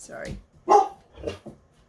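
A dog barks in a few sharp, close bursts with short gaps between them, loud and unaccompanied.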